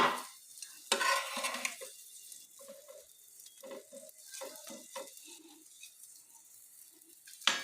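Food is turned slowly in a frying pan with a utensil for a home breakfast dish: soft scraping and tapping strokes over a light background sizzle, with a louder clatter near the start and end.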